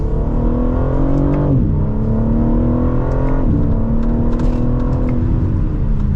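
A 2025 BMW M3 xDrive Competition sedan accelerates hard from second gear, its engine note loud and close, rising steadily, dipping briefly at an upshift, then climbing again through the pull.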